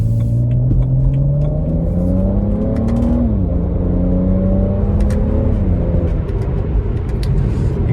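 A BMW 335i M Sport Touring with the N54 twin-turbo engine hums at half throttle in relaxed driving, revs rising smoothly then dropping at an early upshift before climbing again, a steady close in-cabin drone.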